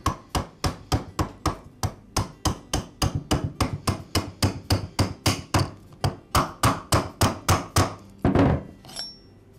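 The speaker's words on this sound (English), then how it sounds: "I slide the tubing over the shaft and then tap the retainer into place." A retainer being tapped onto a shaft with a length of metal tubing slid over it: about thirty sharp, evenly spaced metallic taps in a steady rhythm, close and loud, ending with a slightly heavier blow.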